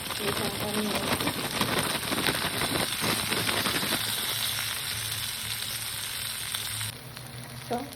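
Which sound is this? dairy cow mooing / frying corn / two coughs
frying corn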